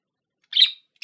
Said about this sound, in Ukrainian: А це папуги, і вони цвірінькають.